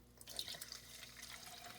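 Liquid trickling and splashing as it is poured into a can sitting on a scale, faint and close, a brief steady pour.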